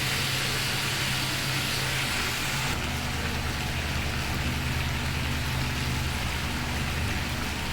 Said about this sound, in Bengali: দেখুন ভাজতে ভাজতে সবজিটা কিন্তু বেশ সফট হয়ে আসছে